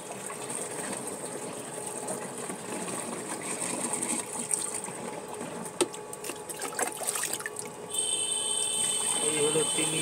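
Water is poured into a container for a mealybug treatment mix, a continuous gushing, trickling flow that swells louder near the end, with a voice talking over it.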